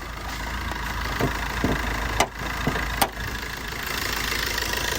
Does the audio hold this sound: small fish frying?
no